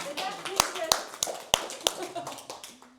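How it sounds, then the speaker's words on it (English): A few people clap for Barton Lee at a training session, scattered sharp claps spaced irregularly while a voice keeps talking over them. "Give him a round of applause,"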